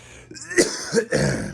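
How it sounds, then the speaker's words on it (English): A rough, raspy smoker's cough from close by, a couple of harsh bursts in quick succession, with a faint hum behind. "pardon me, smoker cough"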